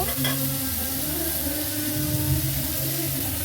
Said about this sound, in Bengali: চিংড়ি মাছ দিয়ে সর্ষের ফুলটা ভাজা হয়ে গেছে